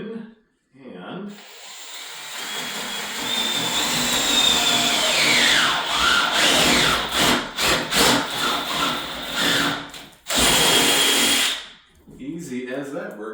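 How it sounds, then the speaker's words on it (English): A power drill bores through wood using a clamped jig with a pre-drilled guide hole at a historic 1860s cottage, close and loud with a whining bite, a brief pause, then another burst before stopping. "The pre-drilled hole guides the drill bit in"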